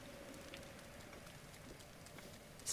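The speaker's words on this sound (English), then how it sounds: "It started raining." Rain falls in The Legend of Zelda: Breath of the Wild as a faint, even hiss of drops that continues steadily throughout without speech, ending with a brief brighter splash.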